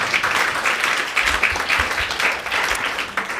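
An audience breaks into applause, a dense wash of many hands clapping together, sustained and fairly loud throughout.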